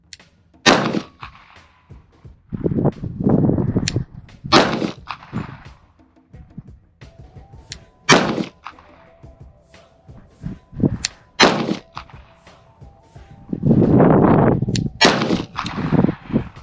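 A Kimber Black Ice Rapide .45 pistol fires at an outdoor target range, a series of loud, sharp reports spaced a few seconds apart, each with a short ringing tail.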